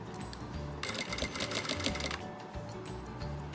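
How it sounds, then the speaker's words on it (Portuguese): Sewing machine running a short seam around the edge of a fabric cap piece, a steady mechanical whirring burst of stitching lasting about a second and a half, alone and fairly close. "vocês vão passar uma costura menor que um pé de máquina a volta toda"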